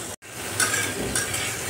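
Spices and a green chili sizzle and fry in oil in a pan, a loud, continuous crackling hiss with stirring scrapes, heard close and without talk.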